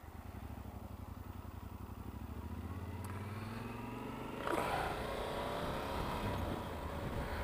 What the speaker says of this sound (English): Traffic today.